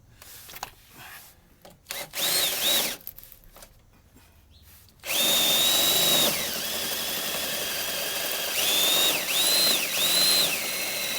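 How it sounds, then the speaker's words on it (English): A power drill whirs in bursts, then runs steadily at high pitch with its tone dipping and rising as it bites into the metal pinch weld of a ProMaster van; no voices. "We're going to drill these holes."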